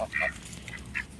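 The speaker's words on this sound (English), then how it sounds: "I have Muscovy ducks." Several short, raspy quacks and honks from Muscovy ducks close by, a few calls in quick succession over a quiet background.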